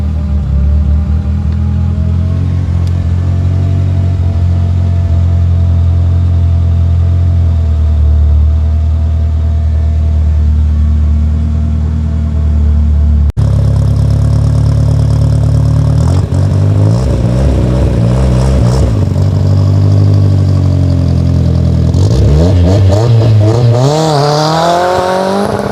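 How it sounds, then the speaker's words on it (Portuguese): The turbocharged 2.0 engine of a 1989 VW Gol Furgão idles with a deep, steady rumble, then roars up through several loud revs that rise and fall, close by. "agora chegou a hora da gente ver o ronco da máquina"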